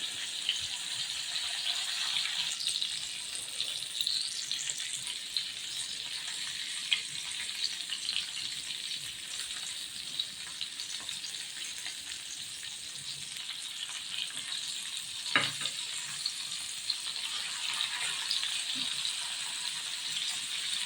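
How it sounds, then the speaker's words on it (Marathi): Bangda mackerel shallow frying with garlic cloves in oil over medium-low flame, giving a quiet, even, hissing sizzle that runs unbroken throughout, with one short knock partway through. "त्यामध्ये आपण लसणाच्या पाकळ्या घालूयात आता आणि बांगडे दोन्ही बाजूने मीडियम टू लो फ्लेमवरती चांगल्या प्रकारे तळून घ्यायचे"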